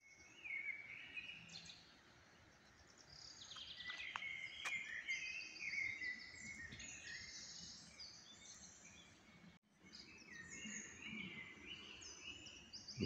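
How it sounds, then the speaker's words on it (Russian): Several birds sing and chirp in a beech forest at sunrise in Mariánské Lázně, Czechia. Overlapping bright trills and whistles, some near and some distant, come over a quiet, faint background. "Послушать пение птиц."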